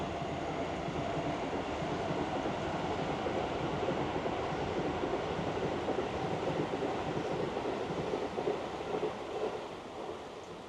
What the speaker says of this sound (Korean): 기차 소리 난다. 자, 지나갑니다.